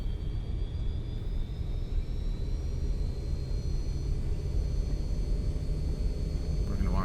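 RotateSim MD-80 jet engines spooling to takeoff power in X-Plane 11, a loud steady roar with deep rumble and a rising whine held throughout.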